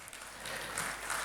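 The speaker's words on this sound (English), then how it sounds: "Give a big round of applause, ladies and gentlemen." A stage-welcome audience claps in a brief burst of steady, hissing applause from many hands, moderately distant and continuous throughout.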